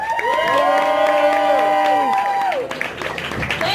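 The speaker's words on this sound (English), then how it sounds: "Please give a big round of applause for Jennifer Hassan" Crowd in an Irish pub in Beijing cheering and applauding for a comedian, with loud sustained whoops and shouts over the clapping that fade out partway through, leaving the claps and the room noise.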